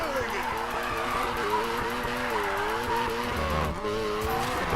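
A car skids and slides in the racing video game Need for Speed Payback, a sustained engine roar with wavering pitch and tyre screech, continuous and loud, with a voice talking faintly underneath.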